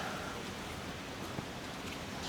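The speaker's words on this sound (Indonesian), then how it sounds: "Jakarta lagi hujan terus ya." Steady rain falls in Jakarta as a soft, even hiss of drops on surfaces, faint and continuous with no voices.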